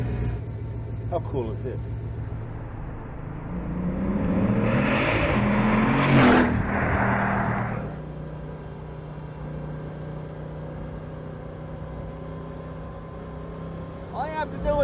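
The engine of a Bugatti Veyron 16.4 Grand Sport Vitesse starts with a rising whir and bark, swells for a few seconds and settles into a steady idle hum, while people talk briefly near the start and end.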